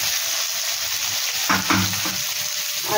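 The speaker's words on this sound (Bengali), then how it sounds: "দিয়ে এটাকে একটু ভেজে নেবো আলুগুলোকে।" Potato pieces frying in hot oil with cumin and a bay leaf, a steady close sizzle with a brief burst of stirring and spattering partway through.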